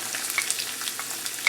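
Chopped onion just added to hot oil with spluttering cumin seeds, a close, bright crackling sizzle with small pops, continuous and unaccompanied by voices.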